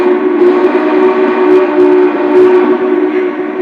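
A model Big Boy 4014 steam locomotive's whistle sounds in a loud, steady, multi-tone chord held for several seconds, close and alone.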